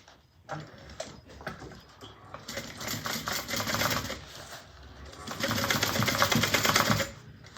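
A sewing machine stitches across the thick zipper of a fabric bag, starting with a few slow, uneven thumps, then running in two long, loud bursts of rapid needle chatter with a short slowdown between them.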